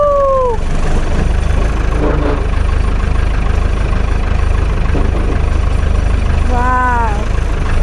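A diesel engine on a Manitou telehandler in need of repair runs at a loud, steady, low idle throughout, close by, while people talk and whoop excitedly over it.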